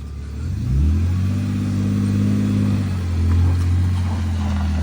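BMW E46 wagon engine revved twice in quick blips, each rising to a throaty peak then falling back to a rumbling idle, heard up close and loud with no talking over it.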